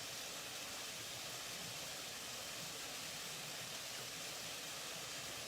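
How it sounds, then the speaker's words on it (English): A small waterfall at the beginning of summer rushes in a steady, even wash of falling water, faint and unbroken with no other sounds on top. "And there's our wee"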